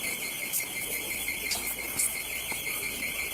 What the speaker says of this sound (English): Then, suddenly, an alarm started going off from the back of the building.